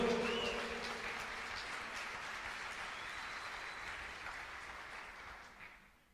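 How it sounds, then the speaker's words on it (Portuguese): A church congregation at a Brazilian anniversary service applauds the Lord, a steady, dense wash of distant clapping that holds evenly for several seconds before fading out. "Você pode aplaudir o Senhor?"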